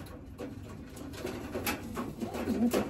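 A racing pigeon coos in a series of soft, low repeated calls, growing a little louder toward the end, with no talking.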